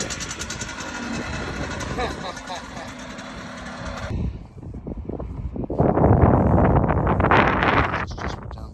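A rebuilt 1985 Honda Aero 50 scooter fitted with a Pollini kit and exhaust runs with a buzzing two-stroke drone, steady at first and then rising louder and rougher as it revs, with some wind noise on the microphone.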